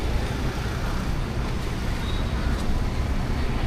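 A car approaches on a hot city road at a traffic signal, heard as a steady, close roar of traffic and engine noise without talk.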